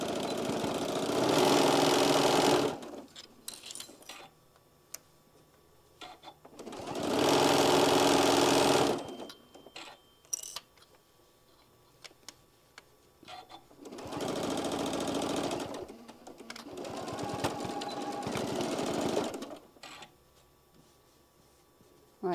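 A sewing machine stitches a quarter-inch seam on a drawstring bag in four loud bursts of rapid whirring, separated by quieter pauses with light handling sounds.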